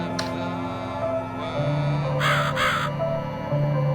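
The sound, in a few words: crow cawing in video game The Cat Lady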